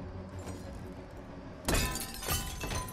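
A shattering, breaking crash rings out in Detroit: Become Human, a sudden loud burst over game background noise, followed by a smaller second crash.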